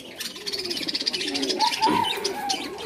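Caged pigeons coo in a soft, repeated rolling rhythm close by, with lighter chirps and wingy rustling mixed in; no one speaks.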